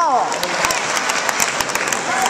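Audience applause at a Latin dance competition, loud continuous clapping in a hall with a voice talking over it and sliding tones at the edges.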